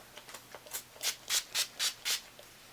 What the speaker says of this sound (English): So I'm gonna spray this all over.